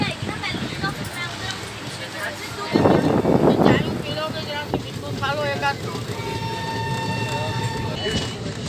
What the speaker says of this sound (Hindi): हमारी महामाना एक्सप्रेस निकलती हुई निहालगढ़ से।